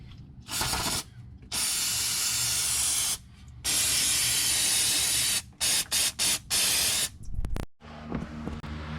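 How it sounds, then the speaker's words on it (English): Brake cleaner sprayed onto the differential of a 2015 Jeep Grand Cherokee V6 in repeated hissing bursts, some long and steady, some short and quick, with brief pauses between them and a clunk near the end. "Now I'm just going to spray off the whole differential assembly with some brake cleaner"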